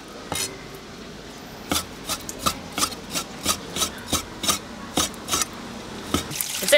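A kitchen knife chops pork tenderloin on a cutting board, a dozen-odd crisp, evenly spaced chops, close and clear with no talk.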